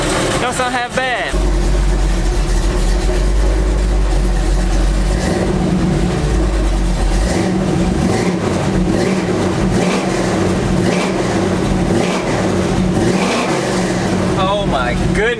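Truck engine idling with a loud, rough rumble, then revved in repeated surging blips, with excited talk over the engine throughout.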